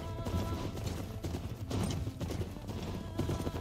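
Machine horses in the video game Horizon Forbidden West, their hooves clip-clopping in a fast, steady rhythm of close, loud thuds under a dense background of game music and ambience.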